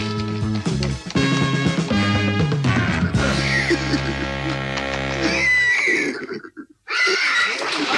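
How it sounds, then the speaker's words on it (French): Several horses neigh and whinny loudly in close succession while being loaded onto a Viking ship, shrill overlapping cries with a brief pause before another whinny, with no talking. "embarquez les chevaux"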